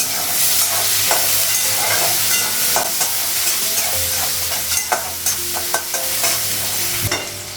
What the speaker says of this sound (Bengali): আলুটা পেঁয়াজটা একটু ভেজে নিয়ে তারপর পেঁপেটা লাগাবো।